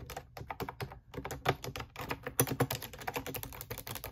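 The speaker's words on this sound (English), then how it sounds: "Girl, I just type away like," Fast typing on a computer keyboard bought from Amazon, a dense run of close, crisp key clicks in uneven bursts with brief pauses, no voices over it.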